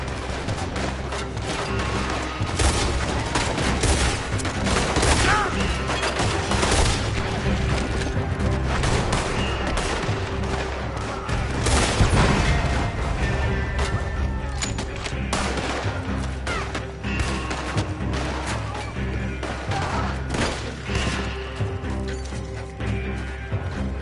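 Gunfire in Red Dead Redemption 2 rattles in dense, continuous volleys of overlapping shots and mechanical clatter, loud and sustained throughout, with occasional shouted voices underneath.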